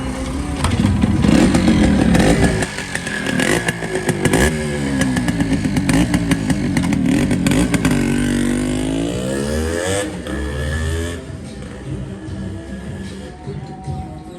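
A Yamaha RX100 two-stroke motorcycle engine runs up close, its rough clattering note rising and falling as the throttle is blipped and eased.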